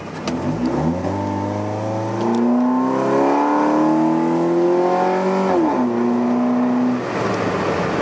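A tricked-out Chrysler PT Cruiser show car, fitted with a mass airflow sensor, runs close by. The engine revs up in a steady rising climb, holds high, then drops back and settles at a lower pitch, with wind noise underneath.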